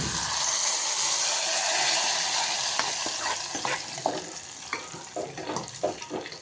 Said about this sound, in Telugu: ఇదిగో పోపు అయితే వేసేస్తున్నాం పప్పులో